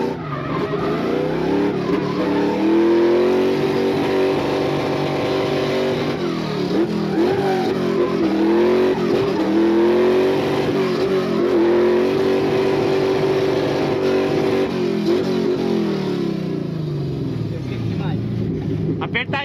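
A car's engine at close range revs hard and keeps droning loudly through repeated throttle swells as it pulls away down a street, with people talking over it.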